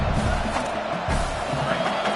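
Football crowd at a Legends Football League game between UCLA and Michigan, a broad steady roar of cheering that swells and dips slightly throughout, loud and continuous with no clear voices standing out.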